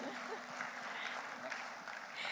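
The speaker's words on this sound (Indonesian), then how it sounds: "Boleh kita berikan tepuk tangan yang meriah hadirin sekalian?" An audience at a national standards awards night in Indonesia applauds an honoured guest, a dense, even patter of many hands that holds steady throughout at moderate loudness.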